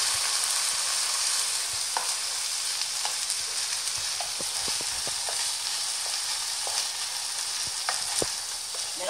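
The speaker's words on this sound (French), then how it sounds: "Après la coloration de la viande hachée, je rajoute 3 œufs battus et je mélange en même temps en omelette." Minced kefta meat fries in a pan with beaten eggs stirred through it, giving a loud, continuous sizzle broken by light scraping and utensil taps.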